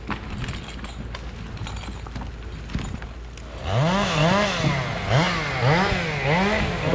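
Chainsaw cutting through a big spruce during forestry felling work, starting with a low idle and rumble, then revving hard from about four seconds into loud, repeated surging cuts close by.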